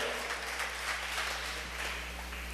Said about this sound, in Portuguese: dê uma salva de palmas para esse Deus